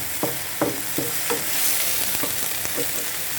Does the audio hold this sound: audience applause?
no